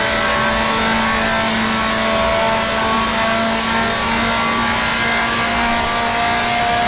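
A 1966 Formula 2 race car engine at the Rouen Grand Prix in Grand Prix Legends, screaming loud and close at high revs with a steady buzzing whine and slight pitch wavers, continuous throughout.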